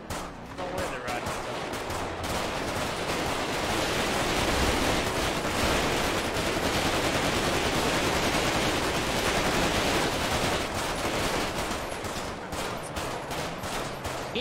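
Automatic weapon gunfire during a video game roleplay shootout, a dense, continuous stream of rapid shots and bursts that fills the whole stretch with no talking over it.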